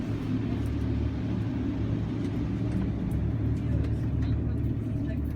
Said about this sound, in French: C'est un extracteur d'air, c'est-à-dire que s'il y a des dégagements de fumée, des choses comme ça, on extrait l'air à l'extérieur.